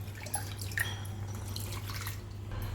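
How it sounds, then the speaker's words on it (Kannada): Water is poured from a vessel into a pot of cooked dal and radish leaf stems while making radish leaves curry, a soft, steady liquid splash and trickle over a constant low kitchen hum, with no talking. "ಸ್ವಲ್ಪ ನೀರನ್ನು ಕೂಡ ಸೇರಿಸ್ಕೊಳ್ಳೋಣ."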